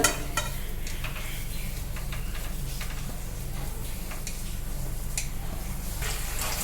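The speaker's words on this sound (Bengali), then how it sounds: "আমি এই যে আলুটা এই তেলের মধ্যে কিন্তু সম্পূর্ণটা ঢেলে দিচ্ছি" Potatoes poured into hot oil in a wok, frying with a steady close crackle and sizzle, scattered ticks and scrapes of stirring on top, continuous and fairly quiet.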